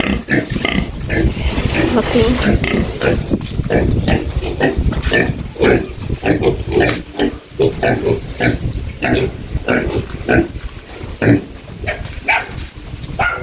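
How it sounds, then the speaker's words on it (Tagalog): Duroc pigs grunt and snort in a steady, busy stream of close, rhythmic bursts across the whole stretch, loud and continuous with few pauses. "Durok na baboy."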